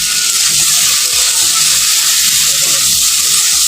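Taro curry with soaked peanuts being sautéed in a pan, giving a loud, steady broadband sizzle that runs unbroken throughout, with faint clinks and stirring beneath.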